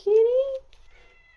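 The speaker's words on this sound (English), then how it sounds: "if you haven't heard, that's my cat." A single close, clear cat meow, rising slightly in pitch and lasting about half a second, followed by quiet.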